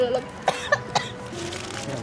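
Several short, sharp coughs come in quick succession, apparently set off by salt and pepper on street food at a Taipei night market, heard close by amid light background chatter.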